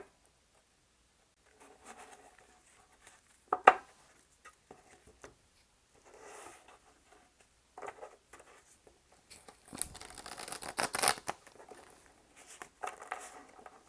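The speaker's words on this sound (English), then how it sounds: "Let's do some shuffling. See how they shuffle." Hands shuffling a deck of kawaii-themed tarot cards: soft, close riffling and papery patter in scattered bursts, quiet overall, with a denser flurry of card rustling near the end.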